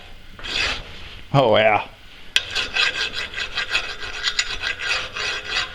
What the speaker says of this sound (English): I'll hit it with a file, make sure we can cut it off with a bandsaw